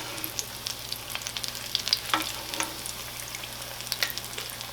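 Apple fritters deep fry in hot oil, producing a soft, continuous bubbling sizzle with scattered small pops and crackles, fairly quiet and uninterrupted by talk.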